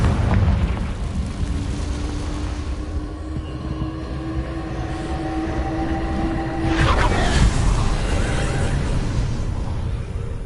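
Confringo spell explosion in a Harry Potter video game, a deep rumbling boom with a sustained roar that swells again near the end, loud and close, without talk.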